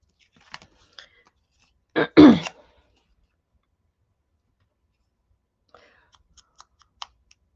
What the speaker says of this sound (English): You do still have your cough?